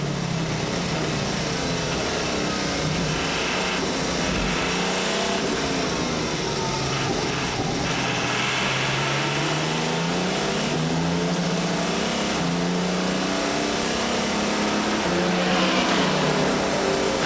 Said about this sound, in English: Now this is what a Peugeot sounds like if you're inside the car.